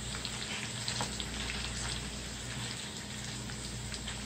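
Wonton strips frying in hot oil make a steady, soft, close sizzle and crackle that continues evenly throughout, with no voices.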